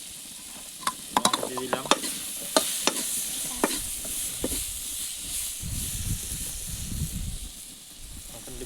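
Chili frying with onions in a pan for a village-style meat curry gives a close, continuous sizzle. Clustered clatters and scrapes of stirring sit on top of it, and a voice speaks briefly early on.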